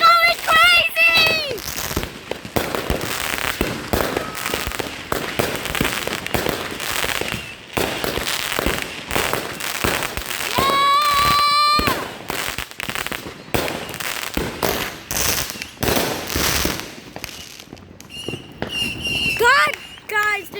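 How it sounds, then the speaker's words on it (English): Fireworks and firecrackers explode at a New Year's celebration in a dense, continuous barrage of loud cracks and pops, with whistling rockets rising in between and excited children's and adults' voices calling out over the blasts. "did y'all see how many fireworks were there?"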